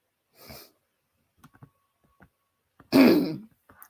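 A man with a sore throat clears his throat: a short soft rasp, then a few faint clicks and breaths, and finally one loud, harsh, close throat-clearing burst, with no speech.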